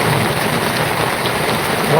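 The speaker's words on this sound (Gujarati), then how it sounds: "શું કામ છે વરસાદ છે" Heavy unseasonal summer rain pours down in Chavand, Gujarat, in a loud, steady hiss, close and unbroken, with no voices.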